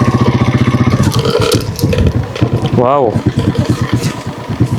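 Rusi TC150 motorcycle engine on a test ride, a steady close engine drone with a brief rising rev partway through, heard under someone talking throughout.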